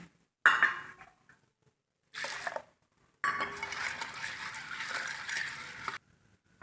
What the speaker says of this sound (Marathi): आता ही डाळ आपण धुवून कुकरमध्ये मी लावते।